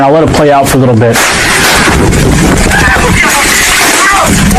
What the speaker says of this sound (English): you can hear the gunshots in the background